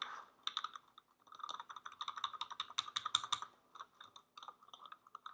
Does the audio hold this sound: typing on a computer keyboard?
yes